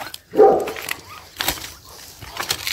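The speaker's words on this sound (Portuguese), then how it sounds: "Aqui tem um cachorro grande" A large dog barks a few times, loud and near at first, then fainter short barks scattered over the rest of the moment, with no talk.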